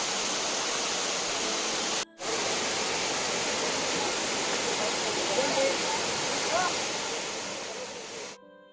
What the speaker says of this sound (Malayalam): നൂറ് മീറ്റർ ഉയരത്തിൽ നിന്നാണ് ഇവിടെ വെള്ളം താഴേക്ക് പതിക്കുന്നത്.